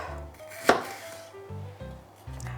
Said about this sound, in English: Chop up these beautiful peppers.